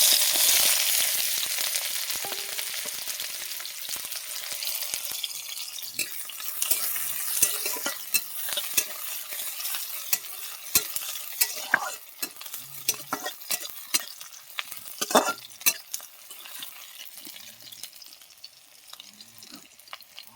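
Onion dropped into hot oil, a loud hiss that starts strong and slowly settles into a softer crackling fry, with scattered stirring clicks and knocks, no voices.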